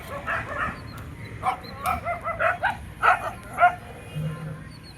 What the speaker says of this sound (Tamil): நாய் குலைக்கிற சவுண்டுக்கு போய் பார்த்தேன் பாருங்க